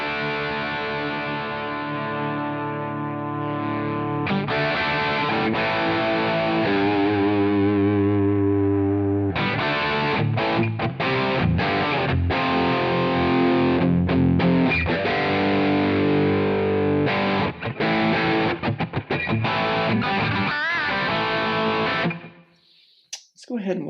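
Distorted electric guitar through a Splawn amp capture on a Quad Cortex, playing loud sustained chords and driving riffs with short choppy stops for about twenty seconds before cutting out abruptly.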